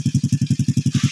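A borrowed motorcycle with no gear lever idles close by, its engine giving a steady, evenly spaced chugging pulse throughout.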